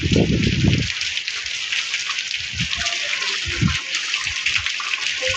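Rain falling around a motorbike sheltered from the downpour, a steady hiss of drops throughout, with bursts of nearby voices at the start and low knocks scattered after.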